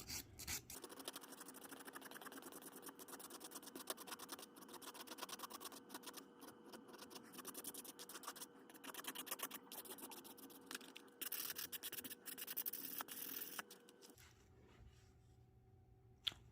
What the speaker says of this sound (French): je prends ma lime et je vais venir matifier ma capsule